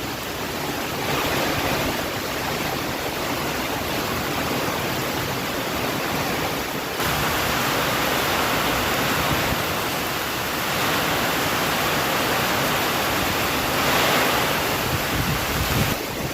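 Strong storm wind roars with crashing surf, a dense, loud, unbroken rush of noise that surges and eases in waves, close and overwhelming, with no speech heard.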